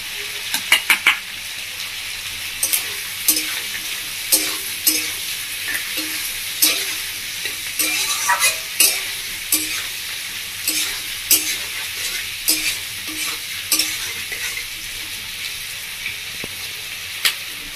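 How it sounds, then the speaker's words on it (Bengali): Chopped ginger and garlic fry in a pan for chilli chicken, a continuous sizzle broken by repeated clinks and scrapes of a spoon stirring against the pan at an irregular rhythm. "এর মধ্যে দিয়ে দেবো আমি আদা আর রসুনের কুচি"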